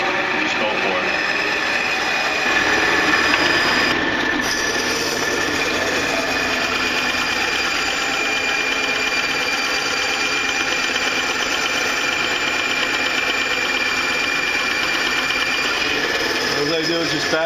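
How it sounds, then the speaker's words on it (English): Continuous whine and hum of a bandsaw cutting through a hardwood block for a knife build, running steadily and loudly for the whole stretch with a brief swell near the start. "This is what I have. I have a bandsaw."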